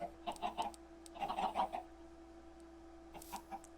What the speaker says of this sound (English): Got a big chicken.